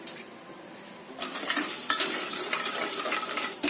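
A spoon scrapes and clinks around a pot of sugar and water heating on the stove, quiet at first and then busier, close and continuous with no talking.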